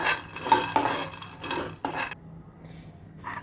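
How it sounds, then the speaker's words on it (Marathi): Roasted peanuts tipped from a pan into a bowl in a home kitchen, heard as several rattling, scraping clatters of nuts and utensil against metal, close and unaccompanied by speech. "ते शेंगदाणे मी आता बाउलमध्ये काढून घेत आहे"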